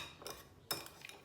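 Metal spoon clinking against a cup while stirring moistened couscous with water, two short bright clinks with a scrape between, close and quiet.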